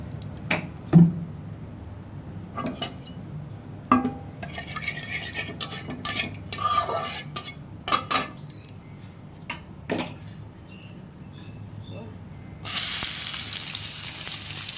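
Cooking sounds as chopped onion and green chili go into hot oil for a latka fish dish, with clinks and stirring scrapes of utensils against a pan over a low steady sizzle, then a brighter hiss rising near the end.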